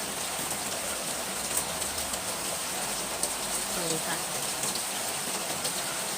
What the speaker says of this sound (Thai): ฝนตกพี่น้องจ้า